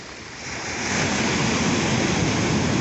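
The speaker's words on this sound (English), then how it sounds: "These are kind of Hawaii waves" Ocean waves breaking at North Beach, Port Townsend, Washington, during a tsunami warning: a broad, constant roar of surf that swells louder after the first second and holds steady, with no voices.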